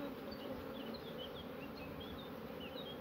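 Honey bees swarm and buzz steadily around a smoked beehive outdoors, a dense continuous hum with individual insects whining past close by, no talking.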